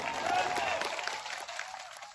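At an outdoor political rally, a crowd breaks into brief, dense applause that swells quickly and then thins out over about two seconds.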